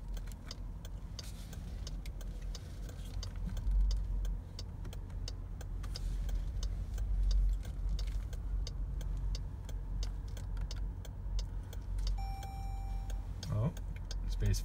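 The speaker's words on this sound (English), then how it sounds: "if we put our signal light on" Turn signal in a 2018 Jeep Grand Cherokee Trailhawk ticking in a steady, even rhythm inside the cabin, set against a low engine and road hum.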